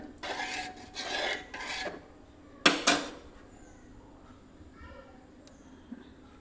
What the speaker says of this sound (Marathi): ह्यात आता जर असं मीठ घालते आणि हे ढवळून घेते मी